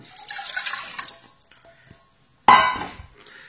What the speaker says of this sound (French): Je vais mettre l'eau.